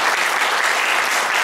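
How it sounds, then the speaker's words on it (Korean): Church congregation at a Sunday service applauding loudly, a dense, continuous wash of many hands clapping with no gaps. "박수 한번 쳐주세요."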